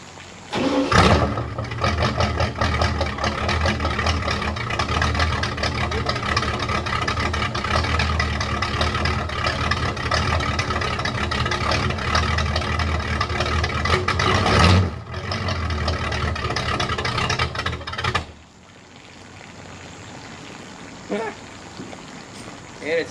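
The engine of a 1986 Shamrock 20 boat fires up and runs with a loud, steady, rumbling roar for about fifteen seconds, then drops to a quieter, even idle.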